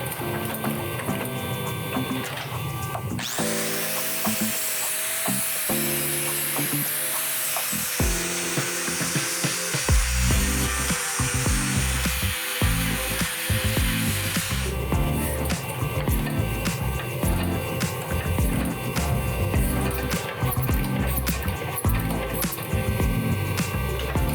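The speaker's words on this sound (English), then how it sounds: "grind all the scale off the outside of the billet" Steady, loud abrasive grinding as scale is ground off the outside of a forge-welded Damascus steel billet, with the pitch and intensity shifting as the metal is worked, continuous with no talking.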